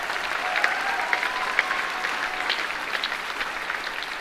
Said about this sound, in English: Can we give them a round of applause for all that they have done?